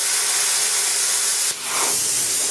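A plasma torch cutting poorly, melting the metal rather than slicing through it, gives a loud continuous roaring hiss that dips briefly partway through before resuming.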